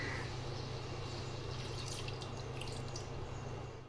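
Water added to a fish curry gravy in a home kitchen, heard as a steady, soft liquid pouring and dripping sound throughout, close and continuous with no talk.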